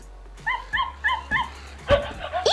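An IMC Toys Lucy robotic toy puppy gives a run of four short, high, electronic yips in a steady rhythm, followed by a louder squeaky bark and a couple of trailing yelps, close and clear with no talking.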